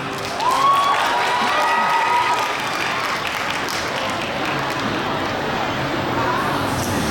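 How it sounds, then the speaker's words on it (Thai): A gala premiere crowd for Disney's The Little Mermaid in Thailand applauds steadily, with some cheering and a brief high whoop near the start, the clapping settling into a sustained wash. "ปรบมือให้กับโบกี้ไลออนครับ"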